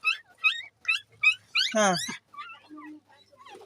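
A puppy gives a quick run of high, sharp yips, then a longer wavering whimper-cry, followed by softer whines; a person's voice is briefly heard nearby.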